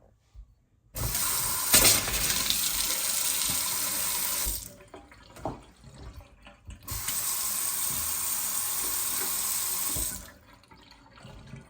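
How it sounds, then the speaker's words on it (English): A Moen Russo kitchen faucet gushes in two bursts of steady running water, separated by a short pause with faint handling sounds, then shuts off after a 1255 cartridge replacement. "Let's go turn the water on"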